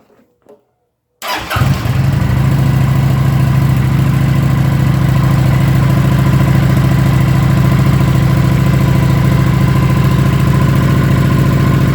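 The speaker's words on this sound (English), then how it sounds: "this bike is running" A 2019 Kawasaki motorcycle engine fires up after a brief quiet moment and settles into a loud, steady, close-up idle with a low, even rumble that holds to the end.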